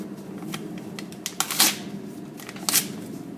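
Sheets of paper are torn into pieces by hand during a simple magic trick, giving several sharp, close ripping bursts separated by quieter pauses, with no talking.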